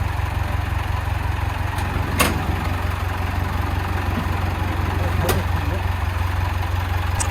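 A 2.5-ton wing body truck's engine idles in a steady, even drone with a low rumble, joined by a couple of brief sharp clicks, while someone speaks.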